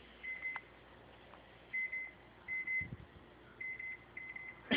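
A microwave oven beeps in a quiet room: a handful of short, thin electronic tones spaced irregularly, at moderate volume over faint background hum, with no talking.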